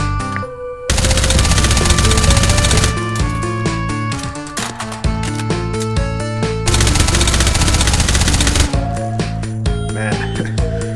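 Rapid suppressed gunfire from a firearm in Hot Dogs, Horseshoes and Hand Grenades, sustained bursts of dense shots with musical score underneath, loud and continuous with brief pauses.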